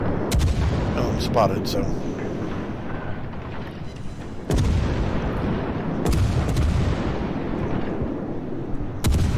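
Naval guns firing in World of Warships, a series of loud booming shots at irregular intervals over steady battle rumble, with someone talking briefly.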